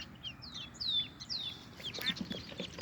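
Orphaned ducklings squawking in distress, a run of high thin peeping calls, fairly faint, over low background rumble, with a scratchy rustle near the end as a hen approaches.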